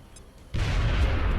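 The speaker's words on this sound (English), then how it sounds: "Throwing grenade." A grenade goes off in the strategy game XCOM: Enemy Within, a sudden loud booming blast that bursts in after a quiet moment and rumbles on for about a second, with no talk over it.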